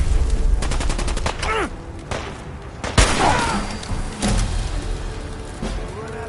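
Rapid gunfire in Fallout 4, with bursts of closely spaced shots, loud single cracks and booms, and some whooshing effects during a chaotic firefight. Voices speak intermittently under the shooting.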